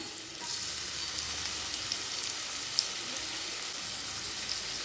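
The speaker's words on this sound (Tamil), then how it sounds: "கொஞ்சம் பச்சை மிளகாய், நல்லா ஹை ஃப்ளேம்லேயே வச்சுட்டு லேசாக வதக்கினா போதுங்க." Spring onion, onion, green chili and chopped garlic sauté over high flame for mushroom fried rice, giving a steady, loud hiss of sizzling oil close up with faint stirring and an occasional small pop.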